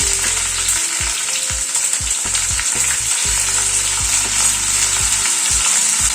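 Diced onions hitting hot oil give a loud, dense, continuous sizzle, close up, with soft knocks and scrapes of stirring underneath and no voices.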